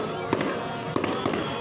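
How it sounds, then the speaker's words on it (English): Fireworks at a beach show go off in a few dull, distant bangs over a steady wash of outdoor background noise. "It's gonna be soon because the fireworks were only 7 minutes long."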